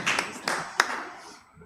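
A few people clapping, with three or four sharp, separate claps and hand taps in the first second, then a fading quiet tail.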